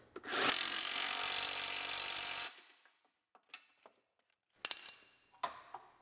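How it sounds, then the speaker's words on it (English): A power tool whirs steadily for about two seconds while bolting in control arms on a cheap Grand Am, followed by quiet clinks and taps of parts and tools. "And now we can bolt our control arms in."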